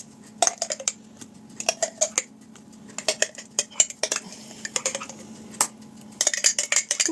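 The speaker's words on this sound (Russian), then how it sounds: "И опять все перемешиваем." A spoon scrapes and clinks against a bowl in bursts of quick stirring mayonnaise batter, with short pauses between rounds, close and fairly quiet.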